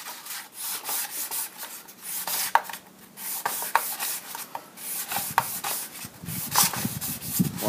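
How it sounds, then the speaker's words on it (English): Light rubbing on a milling machine table in a home machine shop: a few close, scratchy back-and-forth strokes with soft pauses between them, fairly quiet and without talk. "So I'm just milling the machine table, and all I'm going to do, a couple of light rubs"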